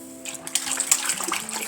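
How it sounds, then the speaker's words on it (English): Water pours steadily into a wallpaper paste mix while it is stirred, a close, loud gushing splash that lasts about two seconds. "So you pour as you stir."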